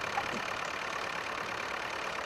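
A Power Major tractor engine idles steadily in a farming game, a constant mid-pitched mechanical drone with a faint knocking texture throughout.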